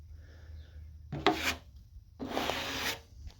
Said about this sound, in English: you can just go over it one time with your sandpaper with a block